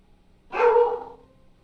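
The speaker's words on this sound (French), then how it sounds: "il y a un chien chez moi." A dog gives a single short bark indoors at home, close and fairly loud, with near silence before and after it.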